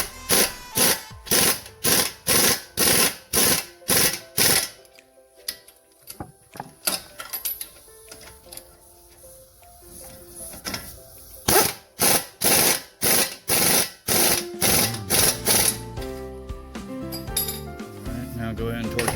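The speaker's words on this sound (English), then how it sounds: "Now go ahead and torque them down to factory specs." A ratchet tightening strut bolts on a Dodge Journey, rapid rhythmic clicking bursts close by, pausing in the middle for quieter clinks of metal before resuming.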